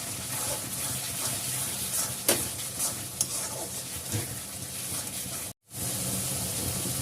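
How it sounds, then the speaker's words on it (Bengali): Kashmiri chili powder is stirred into spices frying in a pan, giving a steady sizzle with scraping stirs and occasional spatula taps, close and unbroken apart from a brief gap. "অল্প একটু কাশ্মীরি লঙ্কার গুঁড়ো দিয়ে নাড়াতে থাকবো।"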